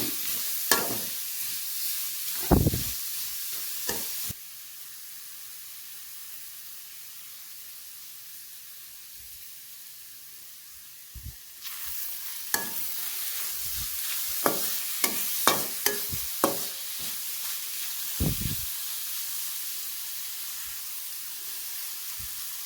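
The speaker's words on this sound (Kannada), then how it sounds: "ತುರಿದಿಟ್ಟಿರೋ ಅಂಥ ಬೀಟ್ರೂಟ್ ತುರಿ ಏನಿದೆಯೋ ಅದನ್ನು ಹಾಕಿ ಚೆನ್ನಾಗಿ ಎಣ್ಣೆಲಿ ಹುರ್ಕೊತಿದ್ದೀನಿ" Grated beetroot and onion fry in oil for beetroot pulao, a broad steady sizzle with scattered scraping stirs and clinks, rising and dropping in level, near and without talk.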